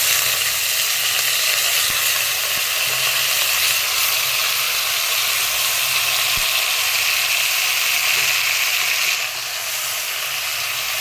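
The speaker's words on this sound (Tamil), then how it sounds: "இப்போ இதில் கருவேப்பிலை ஒரு கொத்து நல்லா வதக்கணும்" Mutton, onion and curry leaves sauté in hot oil, giving a steady, close sizzling hiss with a few faint clicks and no talk.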